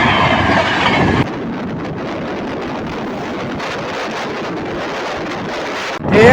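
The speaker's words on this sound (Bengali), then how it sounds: "ধেয়ে আসছে সাধারণ জনগণের রাজধানী নামে পরিচিত Sealdah Anand Vihar terminal Paschimbanga সম্পর্কান্তি superfast express" Sealdah–Anand Vihar superfast express train rushing past, a loud, steady rumble of rolling wagons with rhythmic wheel clatter, preceded by a brief louder approach and ending abruptly.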